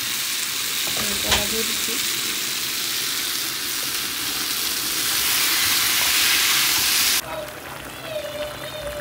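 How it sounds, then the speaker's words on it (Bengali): Cauliflower and potatoes fry with spices in a pan, sizzling loudly and steadily with a brief stir, then softening as a voice speaks briefly near the end. "মশলা দিয়ে এই যে ফুলকপির আলু একসাথে কষিয়ে নিচ্ছি"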